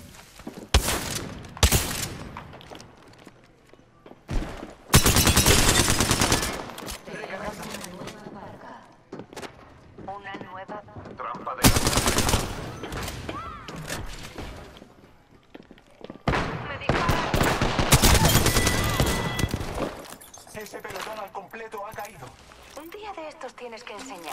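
Gunfire in Apex Legends: repeated loud bursts of automatic fire come in long volleys with short single shots between them, close and dense, and players talk over the shooting.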